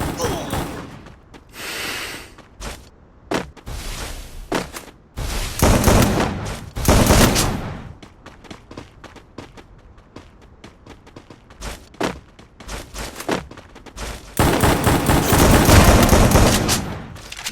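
Double Vector gunfire in the Free Fire battle royale game: rapid bursts of automatic shots in clusters, some loud and close, with a long sustained volley near the end, alongside in-game sounds and a voice.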